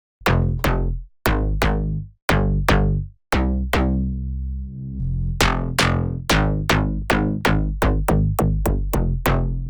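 Punchy plucked slap house synth bass notes in a bouncy rhythm, each with a sharp attack and quick decay, with one longer sustained note midway.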